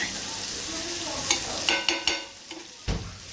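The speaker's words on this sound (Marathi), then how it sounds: "आता इथं आपलं होतं आहे भेजा फ्राय बघा आई आमच्या हल्दीमध्येच करते बघा" Goat brain fry cooking in turmeric sizzles softly and steadily in a pan, then a few distinct spatula scrapes and taps ring out near the end, close by and without talk.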